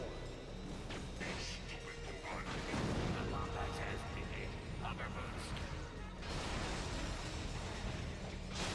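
Gunfire aimed at the player in the video game Ratchet & Clank: A Crack in Time: dense bursts of shots and mechanical crashes and booms that continue throughout, with someone talking over them.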